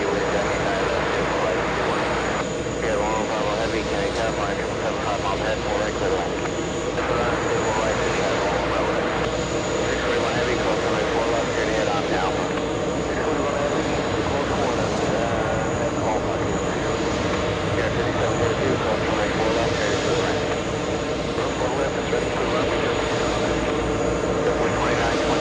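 A Swiss airliner arriving at JFK airport, a loud continuous roar of aircraft engines that holds steady across the whole stretch, with voices talking underneath.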